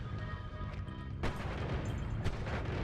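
Explosions in the video game Noita go off as two sharp, loud bursts about a second apart over a dense, rumbling background of game sound.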